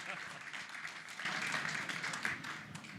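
A crowd at a live show applauds as Michael Lombardi is welcomed to the stage, a faint but steady wash of clapping lasting a few seconds with voices talking over it.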